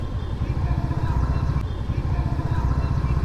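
A Royal Enfield Classic 350 motorcycle rumbles close by at low speed while being parked on a city street, its engine a steady, throbbing low-pitched thump throughout with a continuous background wash.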